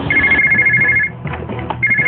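A telephone rings loudly in a rapid electronic trill, in two bursts with a short pause between them and no talk over it.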